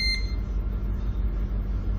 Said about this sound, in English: The reason it's beeping at us right now is because we're on autopilot